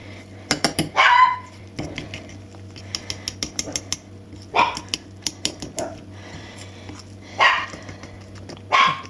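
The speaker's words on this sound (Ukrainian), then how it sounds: "Ти даром не гавкаєш, молодець." A dog barks indoors, several loud close barks spaced a few seconds apart, with rapid clicking and tapping sounds in between.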